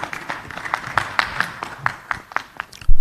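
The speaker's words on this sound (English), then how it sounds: "We give them a round of applause for this" Round of applause from shareholders at a hotel company's annual general meeting, a ragged patter of individual claps in a hall, moderate and fairly close, tapering before a louder thump at the end.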